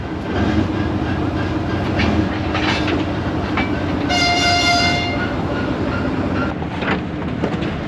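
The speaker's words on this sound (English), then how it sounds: "Here comes our train." A Soviet-era sleeper train pulls into a station in Kyrgyzstan, its steady rumble and rail clatter filling the scene, with a long horn blast sounding partway through.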